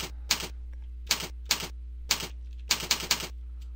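Keys tapped on a computer keyboard while entering text into WordPress, heard as close, crisp clusters of clicks in uneven bursts over a steady low electrical hum.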